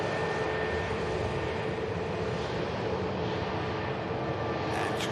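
An Airbus airliner taxiing at Manchester Airport, a steady broadband jet engine roar with a faint whine, constant in level and heard from a moderate distance with no talk.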